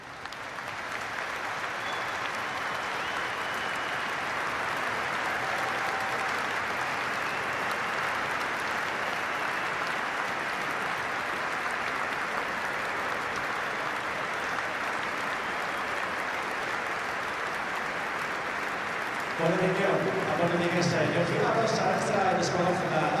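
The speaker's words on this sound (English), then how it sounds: "join us for a period of applause to be started who would have enjoyed what we are about to enjoy" A rugby stadium crowd applauds at length before a Springboks versus Wales match, a broad steady roar of clapping that holds evenly, with music or singing entering near the end.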